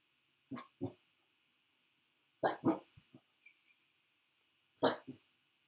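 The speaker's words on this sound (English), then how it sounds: "Ichi, what you doing? What you barking at?" Ichi, a dog, gives a few short barks in separate clusters: a double bark, then a pair with softer trailing sounds, then one last bark, each sharp and close against a quiet room with a faint steady tone.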